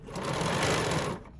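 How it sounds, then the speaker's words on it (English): A sewing machine runs a short, steady burst while stitching a wedding dress seam, its rapid needle chatter humming close and clear for about a second before stopping. "And now I'm going to stitch, stitch, stitch,"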